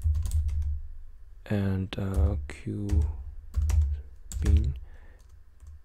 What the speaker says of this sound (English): you just type in mpi run